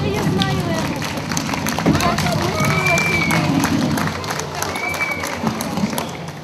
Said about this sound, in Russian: Давайте встретим ее аплодисментами